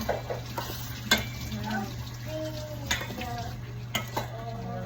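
Chicken tinola stirred in a pot, with a ladle scraping and clinking against the metal over a low steady hum and faint sizzle, close by; a voice speaks briefly underneath.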